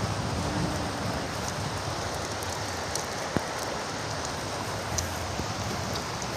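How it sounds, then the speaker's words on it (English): River water flowing steadily beside a riverside walking path, a continuous broadband rush close by with no pauses and faint scattered clicks on top. "It's like the sound of the water."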